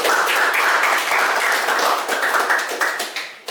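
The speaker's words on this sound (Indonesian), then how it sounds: "Mungkin kita tepuk tangan dulu." People at a student podcast session clap their hands together in a loud, dense burst that fades out toward the end.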